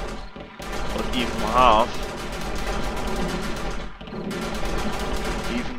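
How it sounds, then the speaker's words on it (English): Turrets firing at zombie hordes during a horde night in a survival video game, rapid continuous automatic gunfire rattling steadily with a brief lull, while someone talks over it. "8 turrets permanently shooting, really the zombies had no chance"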